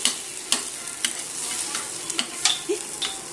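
Bhujia frying in oil in a pan and being stirred, with a steady sizzle and rhythmic scraping clacks of the spoon every half second or so.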